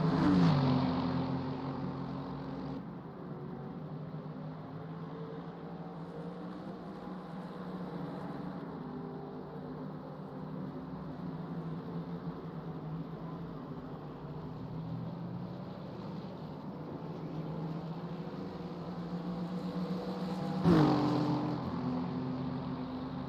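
GT3 race cars, a BMW and a Lexus, lap Monza's Lesmo section: a steady, fairly distant engine drone with wavering pitch, then a louder car sweeps past near the end, with no voices.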